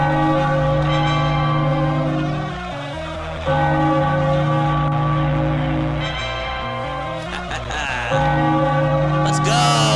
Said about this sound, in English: Ring the bell, Philadelphia, as the Phillies win.